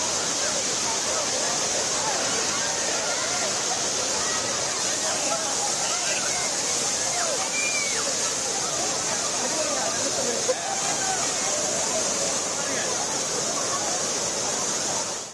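Thirparappu waterfall roars in a steady, loud wash of rushing water, with crowds of families visiting and a faint babble of voices beneath the constant noise.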